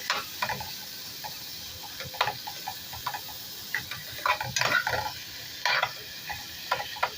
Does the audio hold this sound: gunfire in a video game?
no